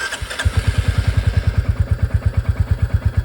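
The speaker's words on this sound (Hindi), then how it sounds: "तो अब स्टार्ट करते हैं बाइक को।" A Royal Enfield Bullet 350 motorcycle engine starts and settles into a loud, even idle, a rapid, regular thumping beat close by.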